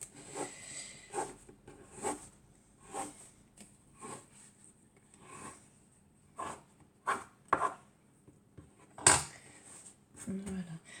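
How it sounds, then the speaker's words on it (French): A knife cuts homemade mini baguette bread dough into three rough portions: a string of irregular, soft taps and thuds on a work surface, close by and moderately loud, with quiet gaps between the strokes. "je vais couper la pâte en 3 parts à peu près égales. Donc, hop, je coupe grossièrement"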